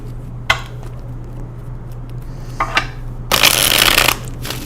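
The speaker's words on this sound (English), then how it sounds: "I still feel like I need to shuffle." A deck of tarot cards is shuffled by hand, giving a few brief riffling flicks followed by a longer, brisker burst of papery shuffling near the end, close and clear over a low background hum.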